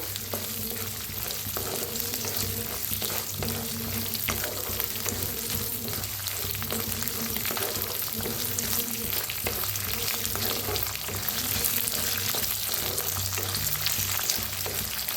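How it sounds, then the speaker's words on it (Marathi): Roasted peanuts and fresh green peas fry in a pan as a steady, close sizzle with stirring clatter running throughout, and no voices over it. "आता ह्याच्यातच टाकूया भाजून घेतलेलं शेंगदाणं आणि वटाणं वल्लं आहेत ती मटर वल्लं आहे"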